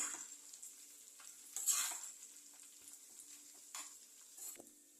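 Samai millet dry-roasting in a pan, heard as soft, intermittent scrapes and rustles of stirring at a low level, with no voices.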